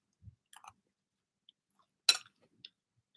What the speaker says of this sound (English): Hopefully this isn't crunching too loud.